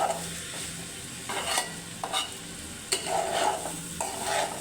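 Mixed vegetables for khichuri sizzle steadily in a hot pan while a spoon scrapes and stirs them in repeated strokes, close and moderately loud with no talking.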